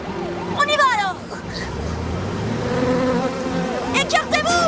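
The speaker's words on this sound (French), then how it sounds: "Un essaim d'abeilles nous suit!" A swarm of bees buzzes in a cartoon chase, whining insect tones rising and falling over engine-like noise, with excited voices shouting over it.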